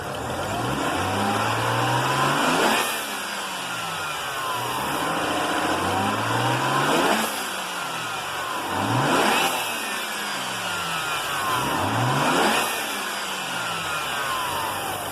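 A BMW N54 engine fitted with a blow-off valve mod revs in repeated bursts, each rise in engine note ending in a sharp whooshing release, four cycles at moderate distance with no talk.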